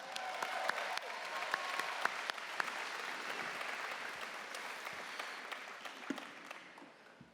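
Audience applause at an awards show filling a large venue, a sustained wash of many hands clapping with scattered sharper claps standing out, steady and moderately loud before gradually thinning out at the end.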